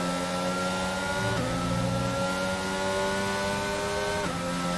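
F1 cars launching off the grid at the Spain Grand Prix in F1 22, engines screaming steadily and rising in pitch through quick upshifts, loud and close with no other sounds.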